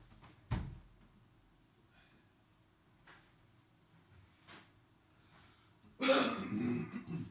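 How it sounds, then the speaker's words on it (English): A brief sharp sniff early on, scattered small noises, then a loud, forceful honk of someone blowing their nose close by. "I need to, like, blow my nose."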